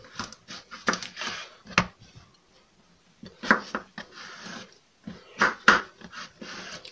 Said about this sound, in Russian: нарежем огурец. Огурец можно соломкой нарезать или, опять же, кубиком